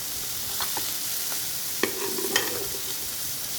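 Vegetables frying in a pan for butter chicken, giving a steady, bright sizzle throughout, with a few sharp clinks and scrapes of a stirring spoon, close and even, with no talking.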